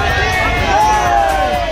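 Dense crowd hubbub at Prem Mandir temple during the Janmashtami festival, a continuous babble of many voices filling the space at steady loudness, with a faint tonal ringing drifting through the middle.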